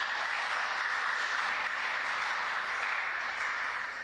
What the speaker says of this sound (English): we say you deserve another round of applause